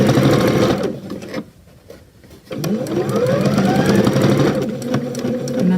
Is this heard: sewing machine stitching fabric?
yes